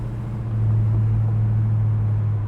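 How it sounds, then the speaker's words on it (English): A 1969 Chevrolet Chevelle's exhaust rumbles low and steady, swelling slightly after the first half second and then holding a constant deep drone with no voices. "Listen to that exhaust."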